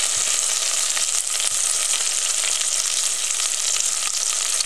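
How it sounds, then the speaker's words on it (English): Bacon frying in a pan over medium heat gives a dense, constant crackling sizzle, loud and close, with no pauses and no voices. "I'm cooking my bacon on medium heat. That way it separates and will fry evenly."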